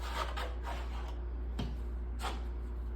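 Drywall mud scrapes and rubs as a trowel spreads it across a wall for texturing, a few soft rasping strokes over a low steady hum.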